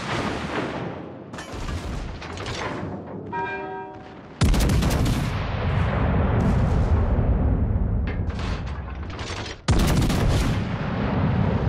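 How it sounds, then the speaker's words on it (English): Heavy artillery fire in a video game strikes a designated target in a loud, continuous barrage of booming blasts, with a fresh wave of impacts erupting partway through and rumbling on to the end. "All stations, requesting fire on the designated target."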